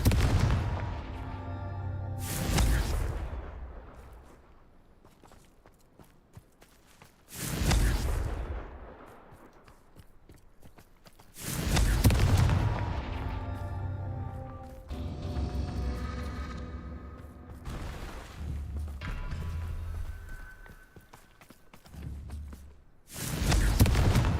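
Repeated Confringo fire-spell blasts from Hogwarts Legacy, each a loud broadband burst followed by a decaying rumble, several separated by quieter stretches of magical crackle and ambience.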